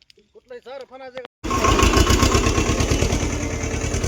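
A tractor engine runs loudly and close by in a rough, steady idle with a regular thumping pulse, after a person briefly speaks over quiet.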